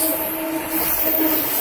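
The newly inaugurated train from Bally station rolls on in a brief stretch of steady, close rail rumble with a faint metallic squeal on top and no voices.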